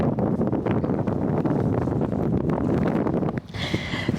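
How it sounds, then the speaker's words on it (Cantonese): Strong wind roars and buffets the microphone at an outdoor art installation on Naoshima island in the Seto Inland Sea, a loud, continuous rushing that dips briefly near the end before gusting again. "聽唔聽到啲風聲？"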